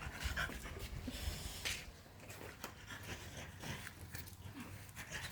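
A racing dog pants rapidly and grunts nearby in a workshop, a steady rhythmic breathing texture with scattered soft snuffles running throughout at low volume.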